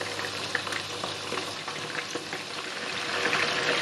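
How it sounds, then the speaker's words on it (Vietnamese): Chicken wings with garlic fry steadily in hot oil, giving a dense, even sizzle and crackle that stays close and constant throughout, with no talking. "Rồi mình cứ chiên chờ cho đến khi nào mà nó nâu đỏ lên là được."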